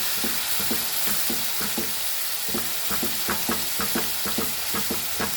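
Sweet and spicy prawns are stirred in a sizzling pan, a steady frying hiss broken by a rhythmic run of spoon scrapes and clacks against the metal, close up, with no voices.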